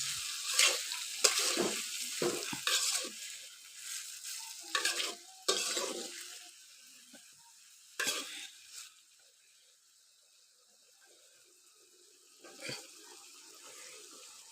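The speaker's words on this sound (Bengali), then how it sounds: "খেসকি মাছগুলো একটু বেজে নেবো" Small kachki fish fry in oil with eggplant and tomato, a soft sizzle under intermittent stirring and scraping in the pan, loudest early on and fading toward quiet near the end.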